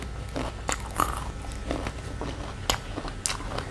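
Crisp, sweet dates are bitten and chewed close up, with a string of crunchy snaps over a low background rumble and no talking.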